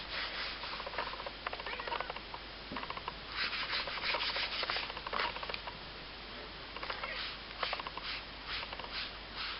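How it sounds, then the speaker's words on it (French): A sponge rubbing product onto leather for a leather strength bracelet, making a continuous scratchy rubbing with rhythmic strokes that swell and fade over about ten seconds, close and alone. "appliquez sur le cuir jusqu'à ce qu'il ne change plus de coloration quand vous passez votre éponge dessus"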